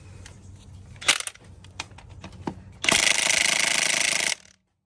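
A cordless DeWalt XR impact wrench with three settings works the wheel nuts on a Jeep Cherokee, with a few short clanks and clicks and then a loud, sustained close-up burst of hammering lasting about a second and a half before stopping.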